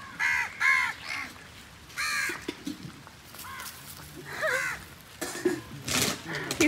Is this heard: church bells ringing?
no